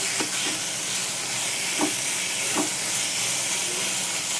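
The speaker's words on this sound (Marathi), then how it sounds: "डाळ थोडीशी जरा अशी चांगली तेलात परतू द्यायची" Lentils and a ground paste of onion, coconut, garlic, coriander and ginger frying in oil in a pan, giving a steady, close hiss and sizzle with a few soft stirring knocks.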